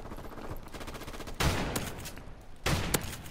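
Shotgun blasts in the game Modern Warfare Remastered: two sharp, loud booms about a second apart over a busy bed of rapid gunfire, with no talk.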